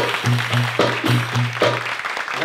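Audience applause for the band at a belly dance show, clapping heard alongside a steady low drum-like beat that repeats in a regular rhythm.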